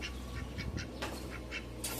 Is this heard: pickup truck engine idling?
no